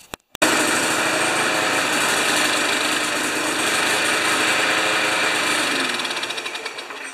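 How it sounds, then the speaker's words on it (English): A Briggs & Stratton Classic engine on an abandoned Murray lawn mower starts with a couple of sharp pops, then runs roughly at a high, buzzing idle close by, and the uneven putter grows sputtery near the end. "Okay, it's still running rough."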